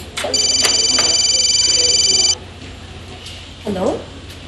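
A cellphone rings with a bright, electronic warbling tone for about two seconds up close, then stops; a person speaks briefly before and after the ring.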